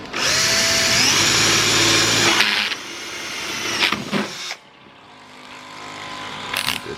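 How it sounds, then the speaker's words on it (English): A power drill whines loudly and steadily as it bores through the plastic top of a Tacoma truck bed storage container, then winds down and stops, followed by short whirring bursts and a faint hum. "Just going to drill it right through the top of this thing."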